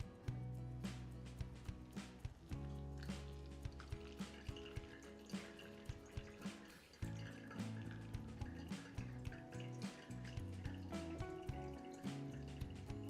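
Hot water pours over medium-ground coffee in a pour-over brewer, a soft steady trickle with regular drips and small clicks repeating throughout, quiet and close, with no talking.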